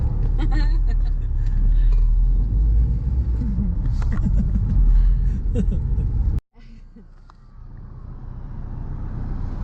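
A car drives down the Falls Road in Belfast, giving a close low road rumble under steady talk from inside. The sound cuts out abruptly partway through, then returns quieter.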